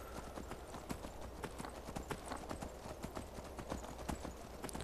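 Steady clip-clop of horse hooves while riding in the Skyrim video game, a brisk continuous rhythm of hoof strikes close by, with outdoor game ambience underneath and no speech.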